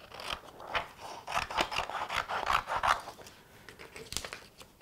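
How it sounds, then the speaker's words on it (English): Scissors snip steadily through a strip of paper up close, a run of crisp, rapid cuts and crunchy scraping blades with no talking. "Let me just cut out a little strip of this."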